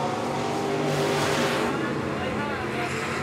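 Street stock race cars lapping at Tri County Racetrack, a loud continuous engine roar that swells and fades slightly as cars pass, with a race announcer talking over it.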